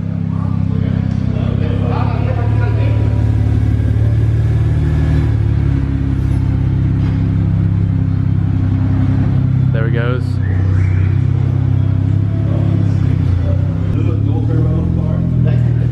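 A BMW 335is with an N54 engine and upgraded turbos idles after its first startup, a loud, steady low rumble close by, with voices talking over it.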